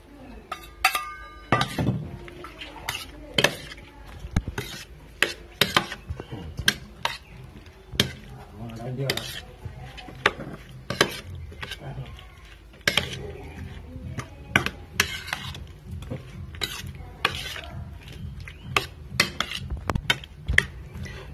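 Ripe mango is mixed with ground pepper and salt in a dish, with irregular sharp clinks and scrapes of a utensil against the container, close and sometimes rapid, mostly without talk.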